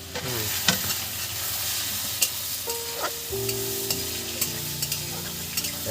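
Crushed garlic paste and onion fry in a pan over a wood stove with a constant crackling sizzle, sharp ticks and pops, and a faint tonal hum in the background.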